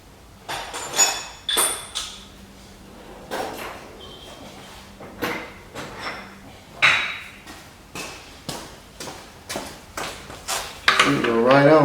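A socket is hammered onto a part of a Yamaha RT180 dirtbike: about a dozen sharp metallic blows land at roughly one-second intervals, each ringing briefly, close and loud.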